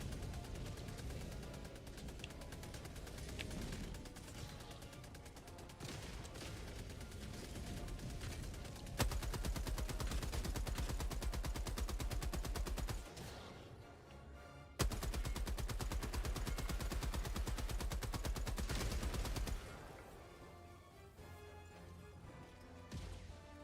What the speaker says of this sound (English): Almost ready to put the machine gun emplacement down.